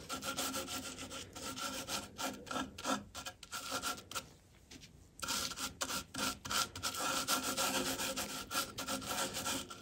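Sanding a spalted birch bowl's end grain into a dust slurry: close, rhythmic rubbing strokes of abrasive on wood, with a short quiet pause midway before the scratching resumes.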